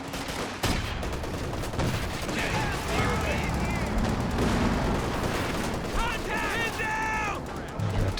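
Artillery shells and gunfire in Company of Heroes 2 crash continuously through a dense battle soundscape, with repeated booms and bursts layered over steady combat noise and faint whistling tones.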